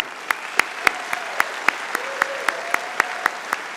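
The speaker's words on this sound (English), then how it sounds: "Let's give Ms. Dr. Colvis another round of applause." Rhythmic group clapping at a graduation ceremony for the speaker, evenly spaced sharp claps in a steady beat over a low bed of scattered applause.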